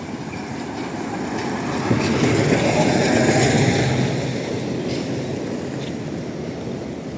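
A tram rolls past on city street rails in Lviv, its rumble swelling and then easing away, with rhythmic wheel clatter on the track and no voices.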